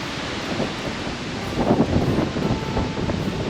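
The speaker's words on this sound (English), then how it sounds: "Oh, that wind! Crazy." Strong outdoor wind buffets the microphone on a hike through barrens, a loud continuous roar of rumbling gusts that swells midway, with no voices.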